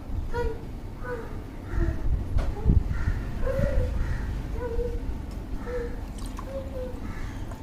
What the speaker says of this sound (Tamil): நான் உங்களுக்கு ஒரு ஃபிஃப்டி எம்எல் எடுத்து ஊற்றி காமிக்கிறேன்